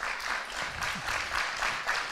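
Moderate applause from a business forum audience welcomes a moderator to the stage, an even wash of clapping at a modest level that carries throughout.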